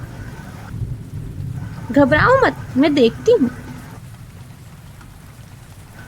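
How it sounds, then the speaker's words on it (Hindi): Thunder and heavy rain in a village at night, a steady wash of rainfall with low rumbling beneath, while someone speaks calmly over it in the foreground. "बादलों की गड़गड़ाहट से पूरा गांव कांप उठा और मूसलाधार बारिश शुरू हो गई।"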